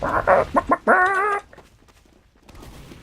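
Chickens in a video game (Team Fortress 2, cp_badlands map) cluck in a quick series of short, close calls, ending in a drawn-out squawk before it goes quiet.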